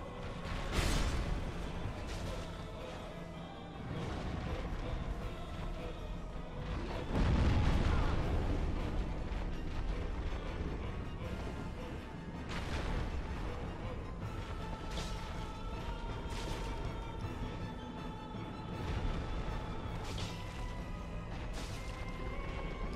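Boss battle against the Demon Firesage in Dark Souls Remastered, with booming explosive impacts, crashing blows and a rumbling low roar repeating throughout, loud and dense with no talking.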